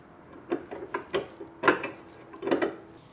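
A ratchet tightens bolts on a Saab 900 suspension during axle, upright and brake reassembly, producing several bursts of close clicking spread irregularly across the moment with short pauses between.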